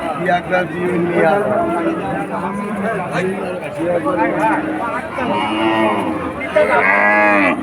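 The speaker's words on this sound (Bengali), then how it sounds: "আচ্ছা কত কম দামে গরু বিক্রি হচ্ছে দেখেন" Cows low at a busy cattle market in Bangladesh, with several drawn-out moos over constant nearby chatter from people talking.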